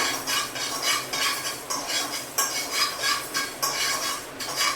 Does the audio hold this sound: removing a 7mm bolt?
no